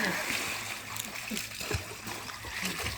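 Water splashes and churns as people swim in a village well, with close, uneven splatters under voices calling out instructions.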